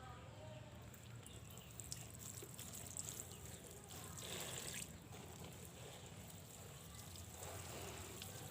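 Rice-water liquid fertilizer is poured onto potted chili and paprika plants, giving a faint, steady trickle and soft splashing throughout, with no talking.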